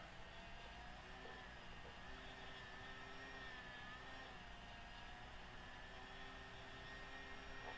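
A simulated Apprentice S 15e electric RC airplane taxiing across a field, giving a steady, fairly quiet motor whine with faint broadband hiss and no talking.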